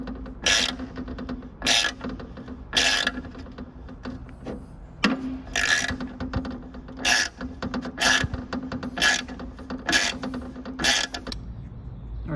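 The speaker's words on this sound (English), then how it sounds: "And I think I'll do this with a ratchet." Hand ratchet clicking in repeated bursts of rapid pawl ticks, about nine strokes in steady rhythm, close and clear, while fitting parts of a wooden throttle quadrant for a Minimax 1100R wood aircraft build; no talking.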